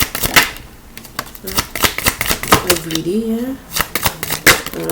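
Tarot cards get shuffled and handled in a run of quick papery riffles and taps, close and fairly loud, while someone speaks briefly in between.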